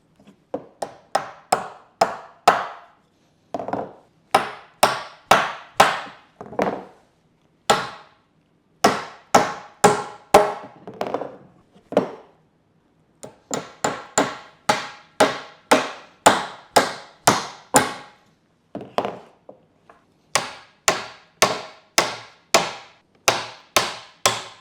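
A hammer drives nails into wooden boards for a chicken coop base, with steady runs of sharp woody blows in bursts of several strikes and short pauses between nails, loud and close with no talking.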